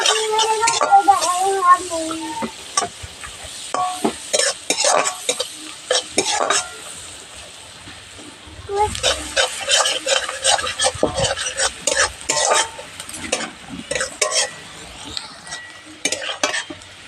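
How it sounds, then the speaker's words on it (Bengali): Chopped onions fry in butter in a pan for restaurant-style butter paneer masala, giving a close, steady sizzle broken by repeated stirring scrapes and utensil clinks, with a short lull midway. "বাটার সঙ্গে পেঁয়াজটাকে ভালোভাবে ভেজে নিতে হবে"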